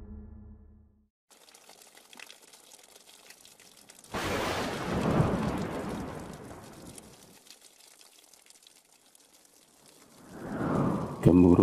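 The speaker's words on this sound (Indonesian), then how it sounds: "Gemuruh suara petir disertai hujan menyambar di luar rumah" A deep roll of thunder rumbles and slowly fades over steady rain outside a house, then another rumble swells near the end.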